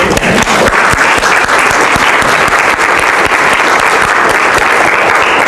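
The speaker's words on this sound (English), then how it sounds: "You should give yourself a round of applause." A crowd at a talk breaks into loud, sustained applause, dense overlapping clapping from many hands, close and continuous for several seconds.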